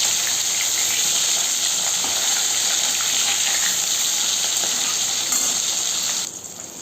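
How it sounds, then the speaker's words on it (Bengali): Pieces of katla fish fry lightly in oil, turned one by one, making a loud, continuous sizzle that holds steady before dropping off sharply near the end, with no speech. "মাছটা আমি বেশি লাল লাল করে ভাজবো না, হালকা করে ভাজবো।"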